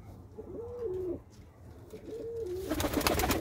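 Two drawn-out coos from a pigeon in a loft ring out close and clear, spaced about two seconds apart, followed by a burst of rustling or flapping noise at the end.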